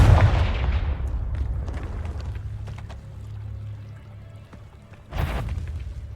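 A Confringo fire spell in Hogwarts Legacy bursts with a loud opening boom that rumbles and decays over several seconds, then a second sharp blast hits near the end.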